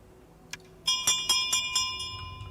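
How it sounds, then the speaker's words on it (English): A bell rings out several times in a steady, evenly spaced series, each strike bright and ringing with a long shimmering tail, following one soft early tap, in a video game made with Unreal Engine. "I will ring the bell."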